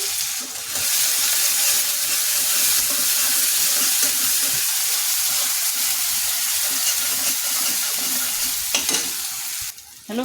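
Whole dried chillies, chopped garlic and onion fry in mustard oil at the start of a greens dish, giving a loud, steady, close sizzle that runs unbroken for about ten seconds before it briefly drops away.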